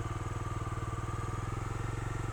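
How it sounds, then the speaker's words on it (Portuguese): A Bajaj Dominar 250 motorcycle engine runs close by in a steady, even throbbing pulse, loud and continuous with no talk over it. "vou sair com a moto aqui"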